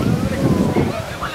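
Wind buffets the microphone in a town square, a steady close rumbling gust under faint voices.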